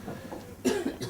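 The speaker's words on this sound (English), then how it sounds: "I think I'll stop coughing now that you've brought it." A lecturer speaking on vaccines lets out two or three close, harsh coughs in a room, short throaty bursts following a moment of quieter breathing.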